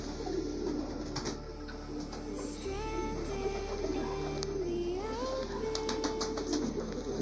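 Homing pigeons in a backyard loft in the afternoon, soft repeated cooing mixed with other bird calls over steady background noise, moderately close and continuous throughout.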